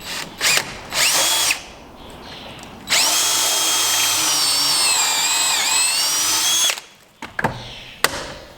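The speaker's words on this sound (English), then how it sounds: "Use their special drill bit adjusted per their instructions." Close, loud power drill fitted with a special adjustable bit boring a shallow hole into a clamped 2x4 during a pallet chicken coop build, with short revving bursts and then one long steady whine that drops in pitch midway.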